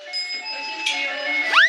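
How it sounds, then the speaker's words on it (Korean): Inside a quiet home, a doorbell chimes in a short run of bright tones that ends in a rising electronic ring, moderately close and fairly soft. "잠시 후 평안한 분위기를 깨는 초인종 소리."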